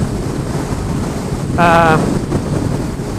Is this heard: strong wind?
yes